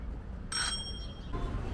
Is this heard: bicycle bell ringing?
yes